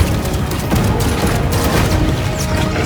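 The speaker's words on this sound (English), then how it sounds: "Open fire!" Dense gunfire and booming blasts in a zombies video game trailer battle scene, a loud continuous barrage of crackling shots and crashes with no talk.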